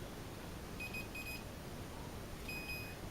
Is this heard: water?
no